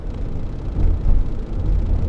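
A 2012 Honda Odyssey minivan with a misfire fault accelerating hard on a test drive, a steady low engine drone and road rumble heard from inside the cabin, swelling slightly as it pulls.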